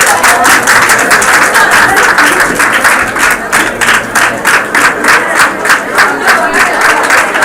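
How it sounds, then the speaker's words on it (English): At a college graduation ceremony, a crowd claps loudly and strongly, settling into rhythmic, almost synchronized clapping in the later seconds. "You can give applause."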